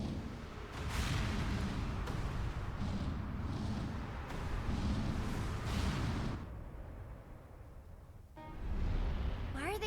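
Guns fire at a ship in Broken Age, heard as repeated rough blasts and crackling volleys that come and go over several seconds, with voices shouting over them.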